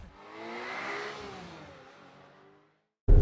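A 2026 Toyota RAV4 hybrid pulls away, its engine note rising and then easing off under a steady whir before going quiet, followed by a short loud bump at the end.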